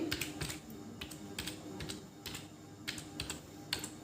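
Keys clatter on a computer keyboard while entering month names into an Excel spreadsheet, a brisk, uneven run of close taps and clicks with no speech.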